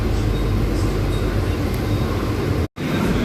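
A Medha AC local train rumbles along at speed, a dense continuous roar of wheels and carriage noise, loud and near, with a brief dropout near the end.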